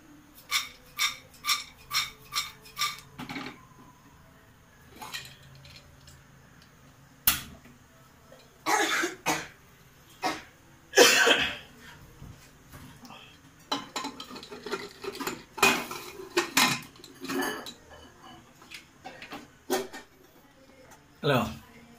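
Popcorn popping in a covered pan, a series of sharp scattered pops and rattling bursts, some in quick clusters and others isolated, with a person talking between them.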